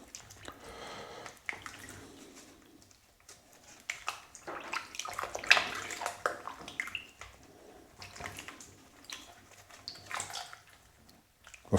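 Cold running water from a tap used to wash a slab of bacon before it is rubbed with black pepper for hot smoking; splashing and dripping bursts come and go close by, with quiet gaps between, and no one talks.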